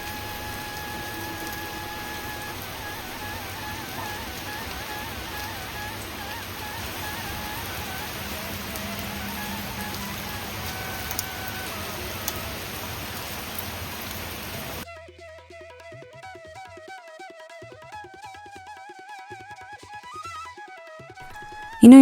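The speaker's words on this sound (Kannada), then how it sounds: "ಫುಲ್ಲು ಮಳೆ ಇವತ್ತು." Heavy rain pours steadily as a dense, even hiss for most of the stretch, then gives way to quieter sounds with faint tonal tones near the end.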